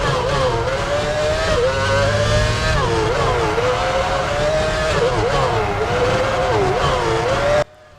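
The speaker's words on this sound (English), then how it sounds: "this car feels pretty darn different from the Honda, and the engine note is completely different as well" McLaren Mercedes Formula One car engine in the racing video game F1 2006, a loud, continuous high-pitched whine that rises and dips with gear shifts and throttle, with a voice talking over it.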